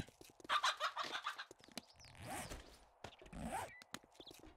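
A chicken in the survival video game 7 Days to Die clucks in short bursts while a player tries to catch it, mixed with scuffling in-game movement sounds and footsteps.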